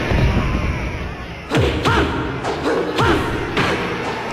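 Rapid machine gun fist punches in a Shenmue 2 fight land as a quick series of heavy thuds and whooshing impacts, about six hits in close rhythm over steady game background noise.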